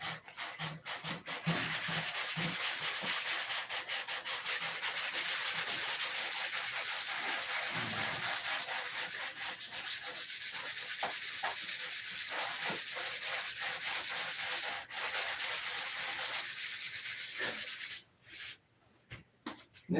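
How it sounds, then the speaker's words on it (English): Continuous abrasive sanding on a chrome part rasps close and loud for most of the clip in rapid back-and-forth strokes, pausing briefly before stopping near the end. "Yeah, I'm fixing to sand it."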